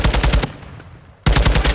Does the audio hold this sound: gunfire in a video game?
yes